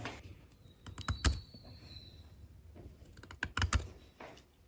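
A lemon graft stick is cut diagonally with a blade for a Dutch-style lemon grafting, giving a quick series of sharp, close clicking and scraping cuts in short bursts, with no talking.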